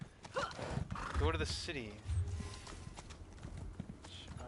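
Horse in Elder Scrolls Online, a neigh and whinny followed by hoof clip-clops, heard close and mixed with a person talking over it.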